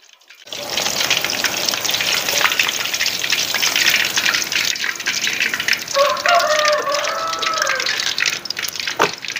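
Garlic chicken kabab pieces fry in hot oil with a loud, close, continuous sizzle and bubbling crackle.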